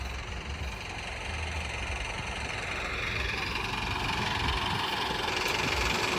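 A tractor engine idles with a steady low rumble and knocking vibration, close by and constant, growing slightly louder over time.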